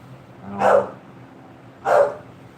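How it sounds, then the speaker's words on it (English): A dog barks twice, spaced a little over a second apart, nearby in a truck shop, with nothing else heard in the clip. "as you can tell, we have a barking dog already, Mr. Noisy over there"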